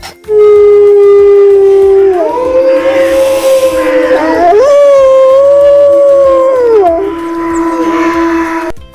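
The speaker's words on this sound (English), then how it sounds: "W for wolf." A wolf gives one loud, close, drawn-out howl that swells, bends in pitch and sustains for several seconds before trailing off, heard on its own without speech.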